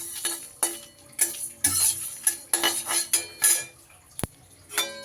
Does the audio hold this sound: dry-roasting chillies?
yes